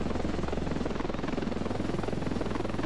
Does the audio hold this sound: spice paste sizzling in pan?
no